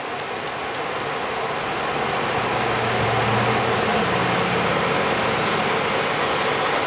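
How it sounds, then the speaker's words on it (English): A household electric fan runs nearby, giving a steady broadband hiss of white-noise-like air that swells slightly and stays constant throughout, with no talk over it. "so if you hear some white noise sound in the background, that's all it is the fan."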